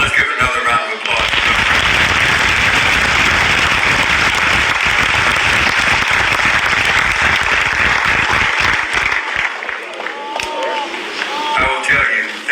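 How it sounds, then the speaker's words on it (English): A funeral service crowd gives a long, loud round of applause that fills the room, fading near the end as a few voices and cheers rise through it. "let's give another round of applause"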